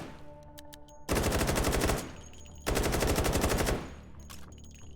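Two long bursts of rapid submachine gun fire in the H3VR virtual reality shooter, each about a second of loud, dense automatic shots with a short pause between them.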